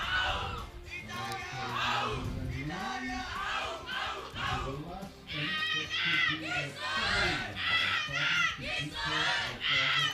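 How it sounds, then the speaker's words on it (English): Supporters' teams at a youth compound archery gold medal final cheer and shout continuously, a loud crowd of young voices rising in waves with rhythmic chants and whoops, close and dense throughout. "the cheering teams have waked up again"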